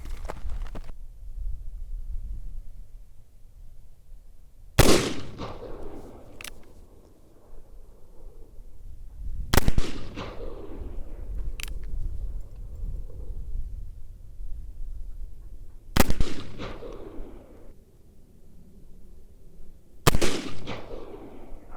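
Black powder gun fired at a target 75 yards away: four loud, sharp reports spaced several seconds apart, each trailing off into a rumbling echo over a low outdoor background.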